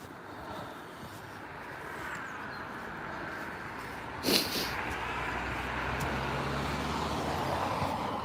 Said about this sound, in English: I know one car coming.